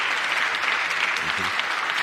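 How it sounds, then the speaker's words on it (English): An audience at the State of the Union claps in a dense, steady burst of applause that is loud and sustained, with a voice talking over it. "These are the Dems clapping now that we sent all the money over."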